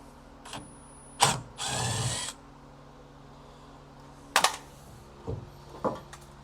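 Short bursts of a power drill backing out the last screw on an abandoned 1968 Mustang under restoration, two loud whirs close by followed by faint clicks and handling noises.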